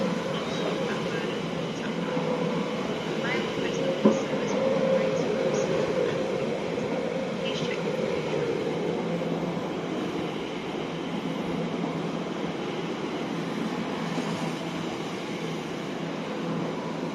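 A passenger train runs past on the Great Western Main Line at Hanwell, a steady, fairly loud rumble of wheels on rail lasting throughout, with a brief clank near the start.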